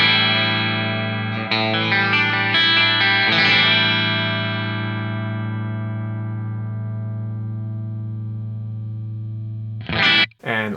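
Clean, unprocessed electric guitar played ahead of a BOSS MD-500 modulation pedal: a few strummed chords ring out and sustain for several seconds, slowly decaying, then a couple of short, sharp chord stabs close it.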